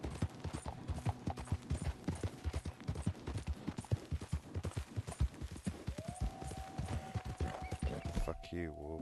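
Quick horse hooves gallop along a road in the Red Dead Redemption 2 video game, a fast steady drumming of close hoofbeats throughout, ending with a rising mechanical tone.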